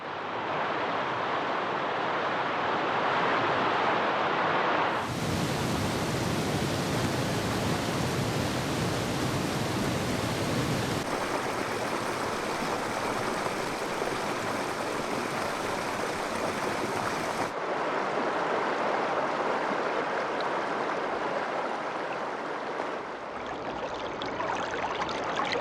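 Waterfalls and mountain streams on Mount Paektu rush with a loud, continuous broadband roar of falling water. The tone shifts abruptly between several takes, with no voices.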